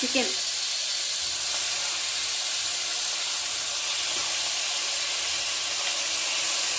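Chicken pieces frying in a pan with tomato, green chilli and masala for a chicken curry, giving a steady broadband sizzle and hiss that holds evenly throughout, close and moderately loud.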